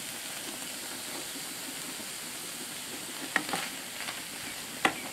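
Creamy chicken with dried oregano and parsley being stirred in a hot pan, a soft continuous sizzle with a few sharp utensil clicks and scrapes against the pan.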